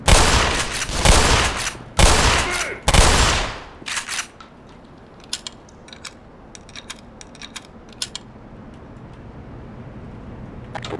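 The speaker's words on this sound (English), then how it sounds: "Machine gun on that guy, too." Loud machine gun fire in the shooter game Black Mesa: three long roaring bursts up front, then sparse clicks and small metallic clatters over a quiet background.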